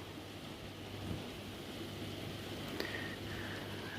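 Rain falls steadily in a UK garden, a soft, even hiss with faint low rumble and no voices over it.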